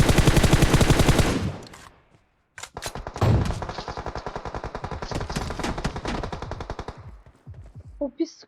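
Rapid automatic gunfire from the mobile battle royale game PUBG Mobile sounds in long, loud bursts, with a short pause after the first volley, then sustained firing until near the end.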